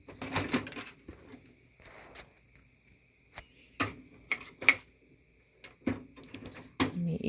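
A Toshiba TV/VCR combo's tape mechanism clicks and clatters as it handles a cassette, with a series of irregular mechanical ticks, whirs and thumps at close range.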